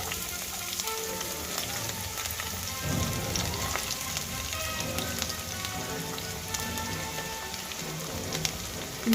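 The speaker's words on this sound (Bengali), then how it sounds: "এবার খুব ভালো করে পেঁয়াজগুলো আমি ভেজে নেব।" Chopped onions with curry leaves and slit green chillies fry in hot oil, giving a soft, continuous sizzle and crackle that stays fairly quiet throughout.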